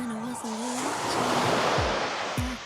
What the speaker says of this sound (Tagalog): Tapos hindi ganun kalakas yung alon niya.